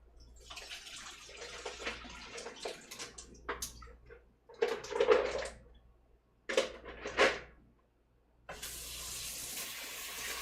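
Mussels are rinsed under running water at a kitchen sink: the tap gushes and splashes in several short bursts with brief quiet gaps, then runs again strongly at the end.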